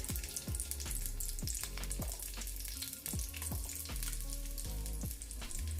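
Garlic frying in olive oil, a loud, dense sizzle with crackling and spitting, plus repeated sharp bubbling pops sweeping downward in pitch, continuous and close.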